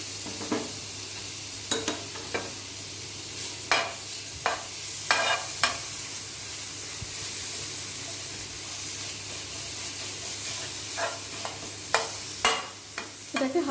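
Crushed garlic and ginger paste fries in melted butter, a soft steady sizzle broken by repeated scraping and clacking of a spoon stirring the pan, with no talk.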